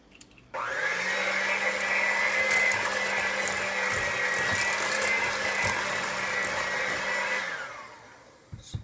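An electric mixer beats an egg into creamed butter and sugar for cookies, a loud steady motor whine that starts abruptly, holds for about seven seconds, then winds down.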